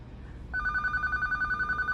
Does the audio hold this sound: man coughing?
no